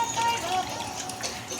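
Rinse water is poured out of a vessel while washing up in a home kitchen, a brief soft trickle and splash close by under background sounds.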